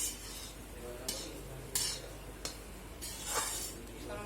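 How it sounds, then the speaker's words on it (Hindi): Chana dal roasting in a pan as it is stirred, with soft scraping and a few sharp clinks of the spoon against the metal over a low, steady background hiss. "यहाँ पर हम भून रहे हैं अपने चने की दाल"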